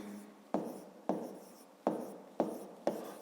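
Pen strokes on paper while writing out a maths exercise, six short scratchy strokes each starting sharply and trailing off, close and quiet, with no voices.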